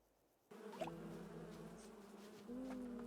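Bees buzz in a video game, a steady droning hum that starts abruptly after a moment of near silence and holds on, growing slightly louder toward the end, with no talking.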